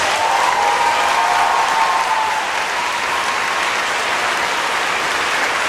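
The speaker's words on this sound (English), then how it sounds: "Let's give them a round of applause." Graduation audience at a 2017 high school ceremony applauding the students, a loud, sustained roar of clapping from a large crowd, even and unbroken throughout, with a faint voice briefly underneath.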